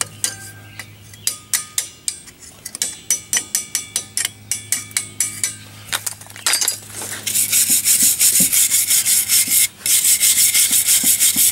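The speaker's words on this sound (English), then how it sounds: "I'm going to wire brush around this hub, clean it all up, get all that rust off there." A wire brush scrubs rust off the front hub of a 1997 Dodge Ram 1500 in rhythmic rasping strokes, then settles into a denser, harsher continuous scouring, close and loud.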